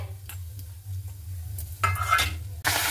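Pointed gourd peels go into a hot pan of oil just used for frying fish, with a faint sizzle, scattered light stirring clicks, and a louder burst of crackling toward the end.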